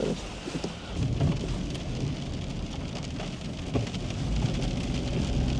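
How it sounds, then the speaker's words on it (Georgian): Heavy rain drums steadily on the windshield and roof of a parked Subaru Forester, a dense continuous patter close around the cabin with a low rumble underneath and no voices. "წვიმის ხმა და რაღაცები გვესმის"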